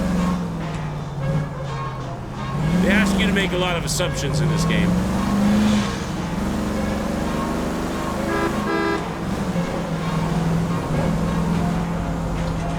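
Stolen car in the video game L.A. Noire, engine drone rising and falling steadily throughout with a brief horn-like toot, under someone talking and some radio voices.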